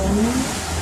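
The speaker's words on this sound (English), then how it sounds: "You can see the RPMs are going up now. That is me playing with the accelerator pedal position." A Hyundai Terracan's diesel engine revs briefly and loudly as the accelerator pedal is pressed, heard close up with a rising tone and no talking.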